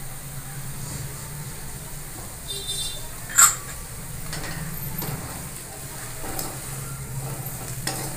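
Soyabean curry with kasuri methi stirred in a pan, a steady gentle sizzle under intermittent spoon scrapes and one sharp metallic clink partway through.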